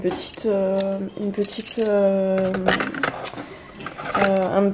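A stainless steel vegetable cutter is handled with clinking, clattering metal sounds that run steadily under a voice.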